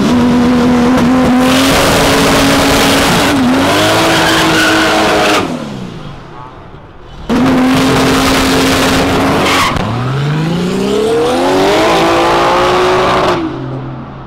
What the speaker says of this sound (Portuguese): Esse aqui é um Opala de 1000 cavalos.